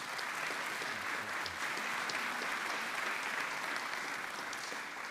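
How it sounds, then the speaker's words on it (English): A steady burst of audience applause fills a real estate update gathering in Little Rock, dense clapping continuing evenly from start to finish. "let's give them one more big round of applause"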